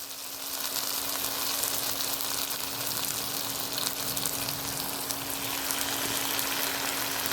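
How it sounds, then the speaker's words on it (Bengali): Bhetki fish wrapped in pumpkin leaves fries in hot oil in a kadai, giving a steady, even sizzle with a faint hum beneath, continuous and close for several seconds without speech. "তেল গরম হয়ে গেছে এবার কুমড়ো পাতায় বেঁধে রাখা মাছগুলো আমি কড়াইতে দিয়ে দিচ্ছি"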